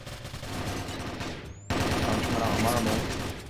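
Rapid gunfire traded between both teams in a competitive shooter game, bursts of automatic fire crackling near and far, dropping briefly before a louder volley resumes.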